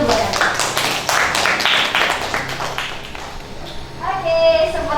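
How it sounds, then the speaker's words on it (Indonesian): A classroom of students claps for a classmate after an MYOB accounting presentation, steady scattered clapping close by for several seconds, then fading as a voice speaks. "kita tepuk tangan dulu buat Nabila"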